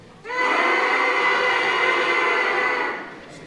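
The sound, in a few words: trumpets played by school band students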